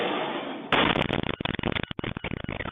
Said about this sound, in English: The explosion was massive